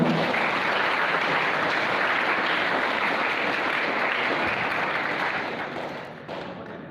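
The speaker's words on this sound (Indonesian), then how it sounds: "Sekali lagi boleh tepuk tangan untuk kita semuanya." A crowd claps steadily at the opening ceremony of a vocational training program in Makassar, a dense, loud wash of applause that fades slightly toward the end.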